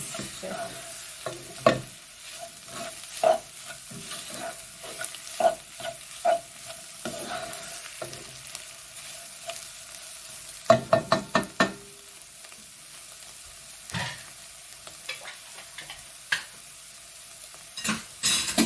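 Meat pie filling cooking in a pan, a low sizzle beneath repeated sharp scrapes and taps of a utensil stirring against the pan, coming in irregular bursts with a quick run of clacks midway.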